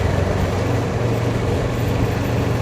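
A CF Moto 650 MT motorcycle on the road, its engine giving a steady, loud drone mixed with rushing wind noise throughout, with no talking.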